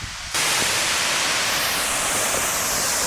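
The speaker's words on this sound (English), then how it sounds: "And this is the main waterfall." Main waterfall at Mon Tha Than in the Chiang Mai mountains of Thailand, a steady close roar of falling water that starts abruptly and holds at a constant level with no voices.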